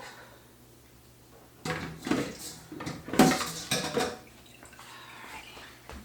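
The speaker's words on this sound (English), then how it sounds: "let's drain our pasta" Pasta drained from a metal pot, clanking and knocking of the pot and lid with splashing and pouring water in several short bursts, close up and without talk.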